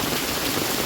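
A short burst of dense, steady downpour, loud and close, with no voices.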